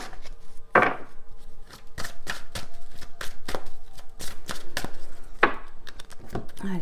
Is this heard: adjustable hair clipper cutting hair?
no